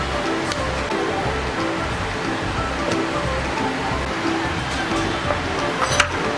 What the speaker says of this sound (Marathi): हे बघा, थोडं मी मिक्सरला असं फिरून घेतलं।